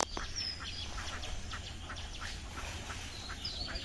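A flock of ducks caught in a fishing net on a village pond quacks continuously in a busy, overlapping chorus, moderately close, with a few sharper calls standing out.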